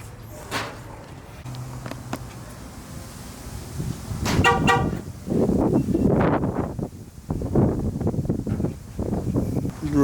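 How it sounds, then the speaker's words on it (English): A Chevrolet Silverado's newly installed aftermarket alarm siren sounds a rapid burst of chirps and warbling tones close by, with wind noise and a vehicle horn toot around it. "Putting the siren on now"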